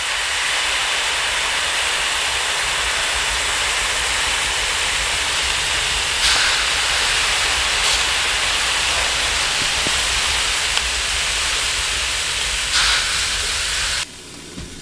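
Snow dropped onto a hot stove inside a tent in deep cold hisses and steams in a loud, steady broadband rush, with a few brief crackling pops, before cutting off abruptly near the end.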